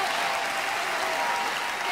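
Studio audience applause at a La Voz Senior Colombia singing show, a dense, steady wash of many hands clapping, loud and close throughout with no voices standing out.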